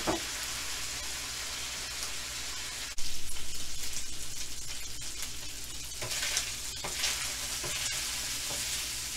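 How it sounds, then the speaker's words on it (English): Chile verde fries in a pan, browning into a crust, with a steady close sizzle running throughout and a sharper surge of spitting fat partway through, occasionally stirred, no talking. "You could take some of the chile verde and fry it up and give it a nice brown crust."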